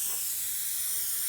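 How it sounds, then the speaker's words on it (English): An airbrush or spray gun hisses steadily as it lays a wet coat of paint onto a model aircraft wing, close and continuous throughout. "And what I can do now is just spray this wing."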